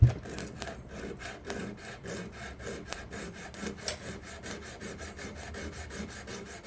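A small metal file rasps steadily across guitar frets in quick back-and-forth strokes while the low frets are leveled, the scraping close, even and continuous with no talk.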